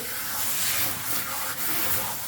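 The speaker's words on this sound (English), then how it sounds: "So I'll just take the hose and put it on the spray and then rinse it." Garden hose on spray setting rinsing an HRV filter, a continuous, loud, broadband hiss of water that stays steady with a brief dip near the end.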